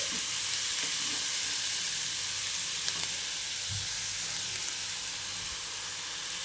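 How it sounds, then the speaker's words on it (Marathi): Masala with ginger and garlic cloves frying in a pan, a steady, close sizzle and hiss throughout with faint stirring knocks, and no talking. "आपल्याला हा मसाल्याला ना हलकंसं शिजवून घ्यायचं आहे"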